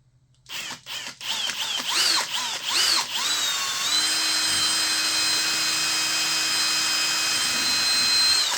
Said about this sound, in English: So we're going to drill those rivets out. Itty bitty drill bit.